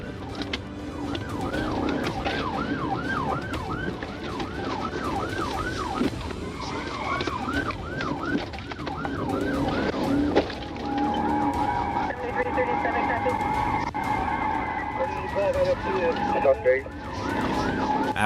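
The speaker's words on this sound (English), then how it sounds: "emergency lights and sirens were activated, initiating a pursuit" Police car sirens wail in rapid repeating sweeps during a highway pursuit, loud and close over rushing engine and road noise, then shift to a more varied, layered siren tone.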